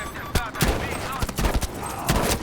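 Sniper rifle fire in Battlefield V, a handful of sharp loud shots at irregular intervals over busy game noise, with voices talking through it.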